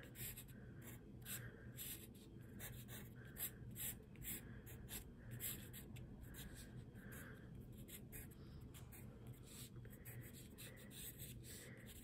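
A graphite pencil sketches drapery folds on paper in quick, angular strokes, a faint scratchy rhythm of short marks and rubbing that repeats closely throughout.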